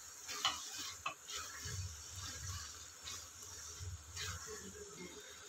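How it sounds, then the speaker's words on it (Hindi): Butter melts in a pan for soya keema pav as coriander leaves are stirred in, giving quiet spoon scrapes and a few knocks over a faint, low sizzle, with no voices. "बटर को अच्छे से हम मेल्ट होने देते हैं। और अभी हम इसमें डाल देंगे धनिया पत्ता। इसको भी अच्छे से मिक्स कर देंगे।"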